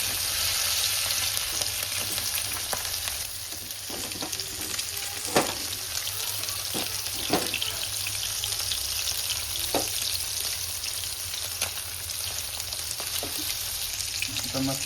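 Baby surmai fish sizzles steadily in a frying pan, a continuous hiss of hot oil broken by a few sharper pops and crackles, close and even throughout with no talking.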